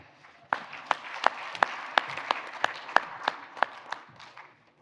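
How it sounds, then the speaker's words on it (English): An audience at the iSOKO platform launch event in Rwanda applauds with a loose, moderate round of clapping, sharper individual claps standing out roughly every third of a second before it fades away. "A huge round of applause for Madame Alain Asimo."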